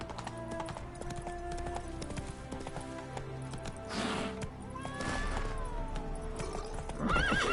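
Roach the horse running in The Witcher 3, a steady drumming of hooves throughout with a loud neigh near the end, over background game music and effects.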